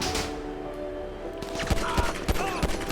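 Gunfire in the video game GTA 5, several sharp shots cracking out in quick succession over a busy game background, with no talking.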